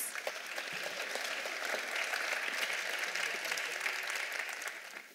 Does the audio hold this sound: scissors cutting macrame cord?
no